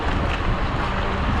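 Strong wind on a seaside boardwalk buffets the microphone in a constant loud roar, with a hint of surf in the background.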